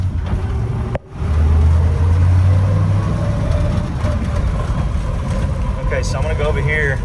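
A car engine drives slowly through an empty parking lot, a steady close low rumble with a brief dip near the start before it settles back to an even drone.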